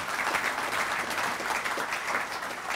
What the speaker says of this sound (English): I'd like to give him a great round of applause.